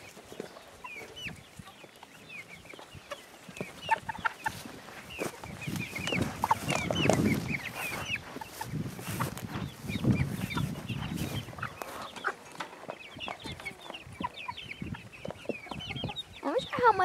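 A flock of chickens out on grass clucks and murmurs continuously at close range, busy overlapping calls that swell in the middle, with occasional soft voices nearby.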